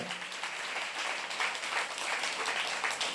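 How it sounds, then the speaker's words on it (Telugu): A church congregation at Covenant Church Thimmanapalem claps in praise, producing a soft, steady patter of many hands heard at a distance, fairly faint throughout. "చప్పట్లు కూడా దేవుని స్తుతించుదాం"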